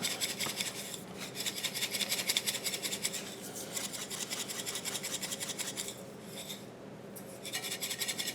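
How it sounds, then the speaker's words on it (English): Dry spiced tea mix is stirred and shaken inside a wide mouth quart jar, making a continuous gritty rustling and scraping. The sound is close and fairly quiet, with a couple of brief pauses and no speech. "I put it in a wide mouth quart jar, so now I'm just going to mix it up."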